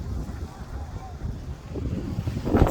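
Steady wind at a beach viewpoint in Ksamil, Albania buffets the microphone with low rumbling gusts, growing stronger toward the end, with faint voices somewhere beneath.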